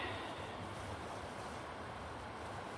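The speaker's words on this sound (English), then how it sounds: "Can hear the rapids." River rapids rush in a steady, unbroken roar of flowing water outdoors by the riverbank. The sound is continuous and fairly soft, with no voices.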